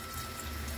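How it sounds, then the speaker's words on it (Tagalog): Two glasses of water poured into a cooking pot while making Visayan fish soup, a steady, continuous splashing pour heard close up with no talking. "Lagyan natin ng tubig. Ganyan, 2 basong tubig."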